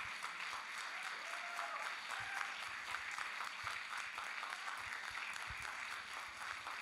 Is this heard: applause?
yes